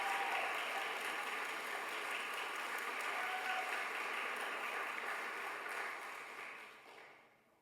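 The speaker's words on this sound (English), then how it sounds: "Please give a round of applause for Jackson." Sustained, dense crowd applause at a 2024 graduation ceremony, steady and full for several seconds before tapering off near the end, with no talking over it.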